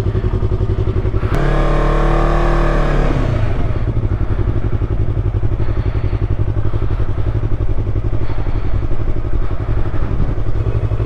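A Yamaha R3 motorcycle engine rumbles loudly up close, with a sharp throttle rev early on that rises and falls, then settles back into a steady idle.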